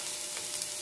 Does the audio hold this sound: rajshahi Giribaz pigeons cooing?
no